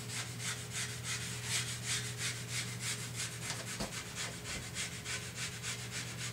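Rhythmic back-and-forth rubbing strokes as tape is smoothed down by hand onto a masonite wing surface, a steady scratchy series of close, even passes with no talking.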